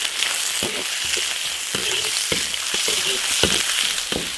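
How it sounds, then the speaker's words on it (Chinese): Cured pork sizzles and spatters in hot oil in an iron wok, a dense close hiss broken by regular scraping clacks of the spatula as it is tossed and stirred. "把腊肉这个香味炒出来。"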